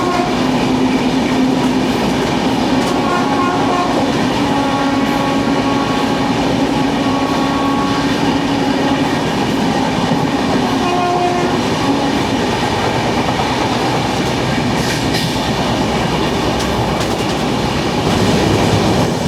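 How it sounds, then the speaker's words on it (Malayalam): Ernad Express passing close by, heard from aboard the Rajdhani Express near Aroor, a sustained loud rush of rolling rail cars with rhythmic clatter and faint wheel squeal, no voices. "ഇതാണ് ഏറനാട് എക്സ്പ്രസ്."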